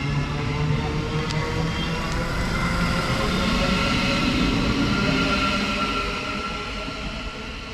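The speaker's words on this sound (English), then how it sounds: "And also passing through, we have an LNER service from London King's Cross to York" LNER express from London King's Cross to York passing through a station on the southern East Coast Main Line, a loud continuous roar of wheels and rail that fades slightly toward the end.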